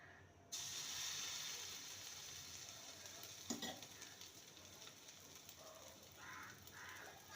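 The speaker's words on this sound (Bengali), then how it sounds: "তেলটা ভালো মতন গরম হয়ে গেছে এবার এক হাতা ব্যাটার দিয়ে দেবো" Semolina and yogurt batter hits hot refined oil in a pan and sets off a sudden bright sizzle that keeps hissing steadily, close up, with a few soft clatters of utensils.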